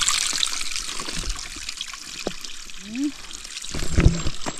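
Water trickles steadily from a spout at a spring along the Shining Rock hiking loop, a close, continuous splashing hiss, with a voice and some handling noise briefly near the end.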